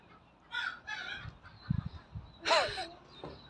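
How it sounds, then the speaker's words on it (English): Faint chickens roosting next door cluck and squawk somewhere outdoors, a few short bursts including a louder call in the middle. "the next door neighbour's chickens are now roosting"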